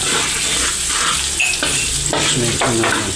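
Onion, garlic and ginger sizzle loudly in a pan, a dense continuous frying hiss broken by stirring scrapes and clatters of a utensil against the pan, close up with no voices.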